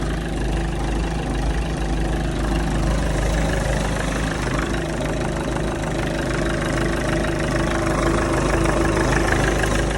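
A used car's engine idles loudly and close by for the whole stretch, running evenly with a continuous low rumble and a slight recurring roughness, and no one talks over it.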